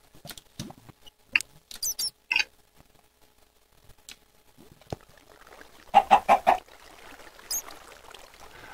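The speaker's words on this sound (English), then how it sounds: "Okay, I hear the chicken. I'm getting closer to the chicken." A chicken clucks from inside a cavern wall in a video game, with a quick run of four or five close, rhythmic clucks among scattered soft taps and rustles.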